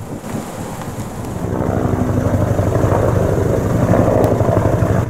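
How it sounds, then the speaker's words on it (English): A steady low rumble of two distant helicopters working in the Yorkshire Dales drones continuously, mixed with wind noise, growing slightly louder partway through. "in the distance there were 2 helicopters at work, so we stopped for a while to watch."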